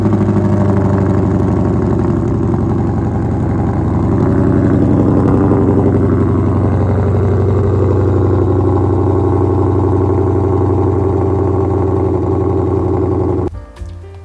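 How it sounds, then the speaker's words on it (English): A GT sports car engine runs close by, a loud, steady throbbing rumble with a slight rise midway, holding for about thirteen seconds before cutting off abruptly. "And this is how that GT sounds."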